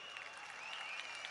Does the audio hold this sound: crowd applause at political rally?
yes